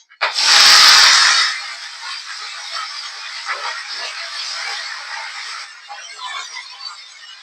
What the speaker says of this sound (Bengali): এবার ভেজে নেব শাকটা